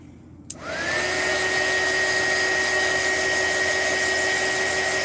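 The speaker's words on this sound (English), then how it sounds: "Yeah, I have a heat gun." A heat gun drying paint switches on with a click, then runs as a steady, loud, close blowing whir with a constant high whine for the rest of the clip.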